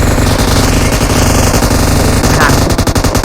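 Loud, dense automatic gunfire from the mobile shooter PUBG Mobile, rapid continuous bursts filling the whole moment at close range, with fire stuttering slightly toward the end.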